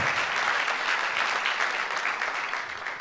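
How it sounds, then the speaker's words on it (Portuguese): A church congregation bursts into brief, dense clapping during a sermon, the applause loud and continuous for about three seconds before tapering slightly. "Dá uma salva de palmas para Jesus"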